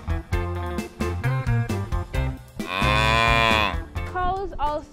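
A cow moos loudly and at length, a sustained bellow dominating the middle of the clip among shorter lowing calls, with no talk.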